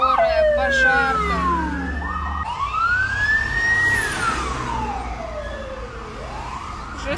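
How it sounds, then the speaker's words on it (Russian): Several ambulance and fire engine sirens pass on a city street during a wartime missile-strike period in Odesa, loud wailing tones sweeping up and down over steady traffic rumble, with no talk over them. "Пятая или шестая скорая проезжает, и еще пожарка вон поехала."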